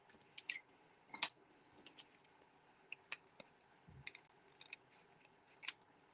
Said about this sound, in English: I'm just going to grab some scissors and trim him off